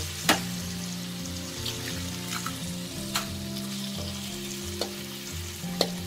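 Eggs and beans stir-fried together in a pan over medium heat give a steady, close sizzle and crackle, broken by a few sharp clinks of a utensil against the pan.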